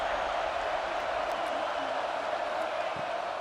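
A steady, dense stadium crowd roar fills a college football video game at Alabama's home field on third down against Michigan, holding an even level throughout.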